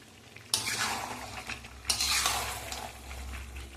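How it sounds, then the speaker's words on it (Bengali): Meat being slowly sautéed with whole garlic cloves in a pan for a Bengali kosha, with steady sizzling and two sharp metallic scrapes of a spatula stirring, close and moderately quiet. "আরও খানিকক্ষণ ধরে কষাবো মাংসটা।"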